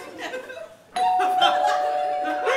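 A doorbell rings partway through, a sustained bright chime tone that lingers over murmuring background voices.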